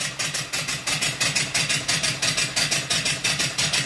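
An off-grid live steam engine, fed by a 20-inch boiler, runs at a steady, rapid chuff, each exhaust beat loud and close in an even, unbroken rhythm.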